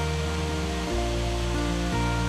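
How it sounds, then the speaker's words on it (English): Horseshoe Falls, a waterfall in a hidden valley in Tasmania, roars as a loud, steady, full rush of falling water heard up close and on its own. "we follow a little side creek into a hidden valley where the second waterfall awaits"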